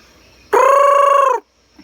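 A single loud, sustained squawk from a red junglefowl, close by, lasting almost a second before cutting off into silence.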